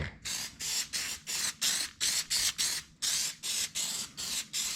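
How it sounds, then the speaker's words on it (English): Repeated bursts of spray hiss from a paint gun spraying a car roof, about fifteen short even pulses in steady rhythm, close and fairly loud. "the third / fourth, probably final spray"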